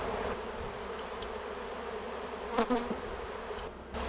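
Honeybees brought in for mite counting hum in a low, continuous buzz, fairly faint and steady, with a few brief nearby buzzes passing closer and no talking.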